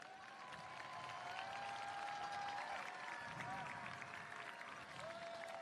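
Sustained crowd applause at the Livermore High School class of 2022 graduation, honoring Pedrosi Foundation scholarship winners; steady, dense clapping from a large audience with a faint tonal whistle or feedback line running through it.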